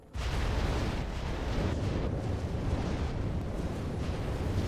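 Fire bursts and roars over enemies in the video game Dragon Age: Origins, a sudden loud onset followed by a sustained, dense crackling rumble that stays heavy and continuous to the end.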